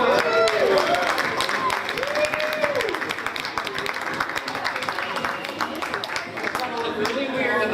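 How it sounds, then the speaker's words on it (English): Crowd clapping at a mall show during a menorah lighting, rapid claps mixed with crowd noise and voices talking over the top. "All right, clap quick,"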